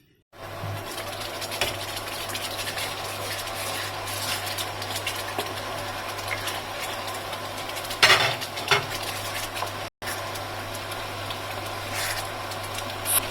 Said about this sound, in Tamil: இப்போ நல்லா கிளறின்னு இருக்கணும்.